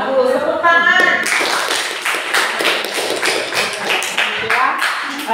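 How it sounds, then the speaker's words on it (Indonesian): A classroom of students breaks into applause after a teacher's praise, brisk clapping that swells and continues steadily, preceded by a moment of talk. "Iya, bagus. Tepuk tangan."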